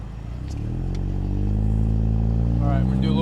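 Exhaust of a Volkswagen Jetta GLI pulling away at night, a steady low engine drone that swells and rises as the car accelerates, close and loud throughout.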